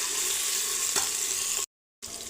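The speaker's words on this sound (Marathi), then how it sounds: "सोयाबीन छान असं परतून घेणार आहोत." Soybeans sautéing in oil in a pan for a pea and soybean pulao, giving a steady close sizzle with one soft clink, then a brief silent gap before the frying resumes.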